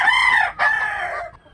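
A rooster crows loudly and close by, one bright, strained call with a brief catch midway before it trails off into quiet.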